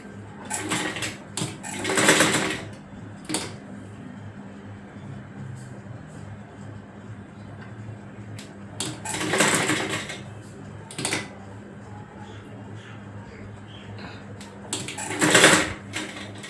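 A sewing machine stitches over the gathers of a small girl's frock in three separate loud bursts of running, spaced several seconds apart, with quieter handling and background noise between them.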